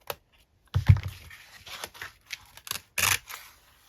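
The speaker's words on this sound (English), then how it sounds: "I'm gonna just cut that sellotape" Scissors cut through sellotape on a vintage map folio craft project, a few crisp, close snips and clicks spaced apart, with a sharper crunch near the end.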